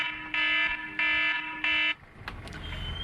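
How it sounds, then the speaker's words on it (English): A boat's electronic wake-up alarm beeps three times in even, loud, steady tones, then stops, leaving rushing wind and water noise on board a sailing vessel off the coast of Brazil. "That's the alarm to make sure that I wake up so we don't hit anything."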